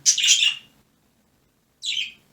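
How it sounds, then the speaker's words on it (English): Birds chirping outdoors in two short, bright bursts of rapid tweets, the first lasting about half a second and the second following after a quiet gap, fairly close and clear against a silent background. "These birds are going to really annoy me."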